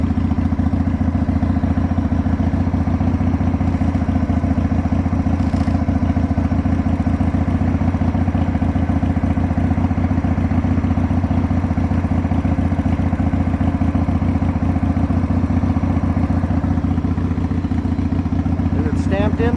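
A Harley-Davidson motorcycle engine with removable exhaust baffles installed idles steadily and loudly close by, a constant low rumble that holds for the whole stretch, with a faint click near the end.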